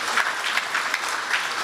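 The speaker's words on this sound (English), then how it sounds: "can we get a round of applause for Mr." Audience at a public education event on the CCJ and the Privy Council giving a steady round of clapping for Mr. Johnson, a dense even patter heard close.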